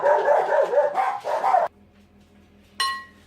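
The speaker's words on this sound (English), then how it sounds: "Someone came to the door. The dogs went mental." Several dogs bark loudly and frantically at someone arriving at the front door, a dense burst of overlapping barks that cuts off abruptly into quiet room tone, followed by a single bright clatter.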